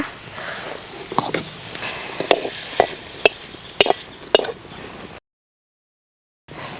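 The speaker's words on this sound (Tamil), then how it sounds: "நம்ம வதக்கின குடமிளகாயுமே அந்த மசாலா கொட்டிங்க ஒரு ரெண்டு நிமிஷம் நல்லா வதக்கி எடுத்துக்கலாங்க" Capsicum is sautéed in masala gravy in a pan, with a low sizzle under sharp, irregular spatula clacks and scrapes, before the sound cuts to silence briefly.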